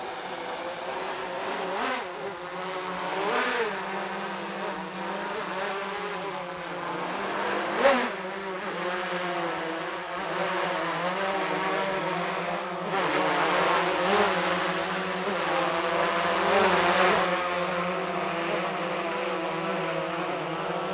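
An Autel Evo 2 drone with its propellers flying and coming in to land, a steady close buzzing whine of rotors shifting in pitch throughout, no voices.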